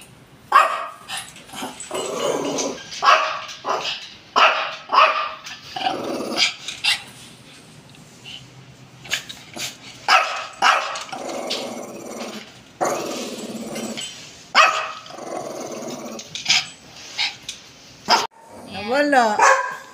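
A dog barks repeatedly in short bursts, mixed with growls and yips, at a pet boarding place at mealtime, while a person talks in Filipino nearby between the barks.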